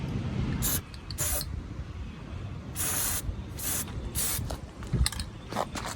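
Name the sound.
spraying Plasti Dip rubber coating onto metal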